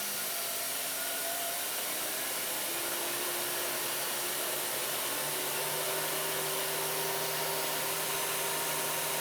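A milling machine spindle spins at 4,800 RPM with the quill feed off, a steady close whirring roar with faint tones that slowly shift as it runs.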